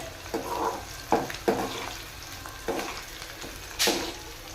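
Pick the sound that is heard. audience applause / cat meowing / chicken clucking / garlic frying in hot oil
garlic frying in hot oil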